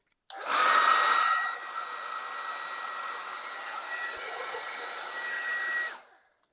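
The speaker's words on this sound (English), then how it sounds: "So let's see if it can run this hairdryer in that same mode at level 2." A hair dryer running on a CAT power station in AC mode at level 2 starts with a loud whooshing roar, settles into a steady whirring hum for several seconds, then switches off abruptly.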